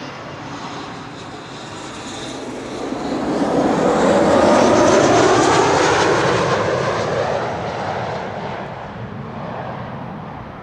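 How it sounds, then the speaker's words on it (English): A KLM Embraer 190 jet arriving from Barcelona lands on runway 27 at Amsterdam Schiphol, its engine roar swelling to a broad peak midway and then slowly fading into the distance. "We're looking at a KLM Embraer 190 arriving from Barcelona."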